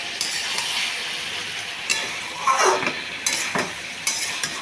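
Spice paste for jackfruit and prawn dalna fries on low flame, a close, steady sizzle broken by several scraping stirs and light clinks of a spoon against the pan.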